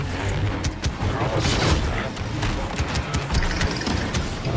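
Gunfire and explosions in the video game Star Wars Battlefront 2, a dense barrage of rapid blaster shots and booming impacts over a constant rumble.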